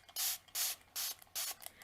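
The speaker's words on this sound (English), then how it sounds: "I'm going to just spray it." Water spray bottle misting onto a paint-covered art journal page, four quick, crisp hissing spritzes evenly spaced, close and fairly quiet with short silences between.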